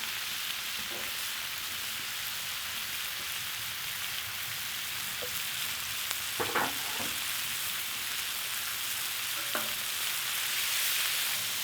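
Beef and onions fry on a griddle in bacon grease for a Texas bacon cheesesteak, a steady close hiss with a few scrape and tap sounds from a spatula near the middle and the end.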